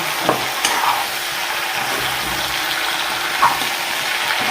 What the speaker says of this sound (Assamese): এইখিনিও ধুনীয়াকৈ মিক্স কৰি অকণমান ভাজি ল'ম